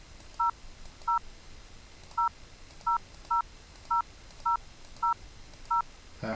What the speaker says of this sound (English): from here you can dial a telephone number